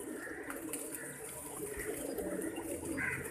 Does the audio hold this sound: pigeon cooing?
yes